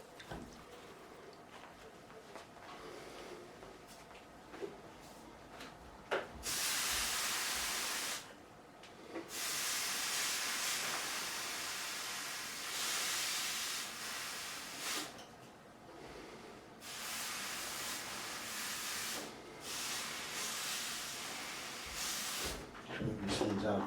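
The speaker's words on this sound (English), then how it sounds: "I'm just going to pull back a little and we're going to steam the next part." Steam hisses in loud bursts onto a Warwick Streamer LX bass neck during truss rod removal, several long broadband jets separated by pauses, with quieter workshop handling sounds between.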